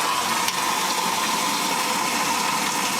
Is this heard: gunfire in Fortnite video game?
no